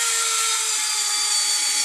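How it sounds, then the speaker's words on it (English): A weakening cordless drill, its battery running low, bores holes for position lights on a model runway, giving a steady high-pitched whine that holds continuously throughout. "Sounds like the batteries are starting to get a little weak on this drill."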